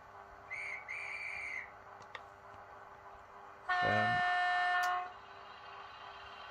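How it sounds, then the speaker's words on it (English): A Bachmann Class 90 Freightliner DCC sound-fitted model locomotive gives a guard whistle as two short, shrill pips. A longer, louder horn-like blast follows a couple of seconds later. "Guard whistle."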